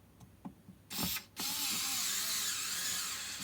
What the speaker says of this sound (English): Wrangle my little lecky screwdriver down in there.